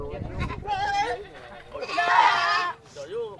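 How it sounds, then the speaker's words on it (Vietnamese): Male goats bleat loudly and close by at the Cốc Ly livestock market, with several drawn-out wavering calls and someone talking over and between them. "Đấy, mấy em dê đực này."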